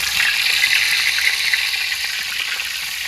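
Fresh hilsa fish sizzle in hot oil in a pan on a village stove, a loud, steady, hissing crackle that runs continuously throughout with no talking.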